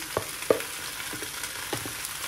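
Red kapya peppers dropped into hot olive oil, a close, steady sizzle and crackle with a few soft clacks from stirring spread across the moment.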